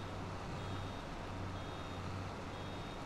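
A baler beeping in Farming Simulator 22, a steady warning tone running continuously beneath a low droning tractor engine, with no talk.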